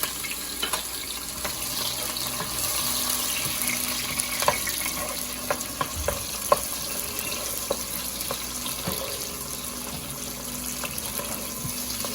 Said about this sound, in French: On va faire revenir les oignons.